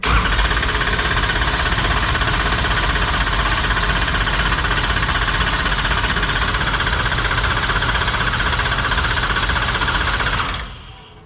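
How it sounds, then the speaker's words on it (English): A dirt-track race car engine is spun over to check oil pressure. It drones loud and steady, with a rough mechanical chatter, for about ten seconds, then cuts off abruptly. "Let's spin it, make sure we got oil pressure with the motor."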